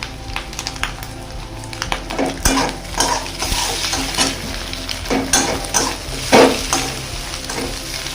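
Maggi masala being stirred into a hot frying pan, with steady sizzling under repeated scraping strokes of a utensil against the pan, close and fairly loud, with no talking.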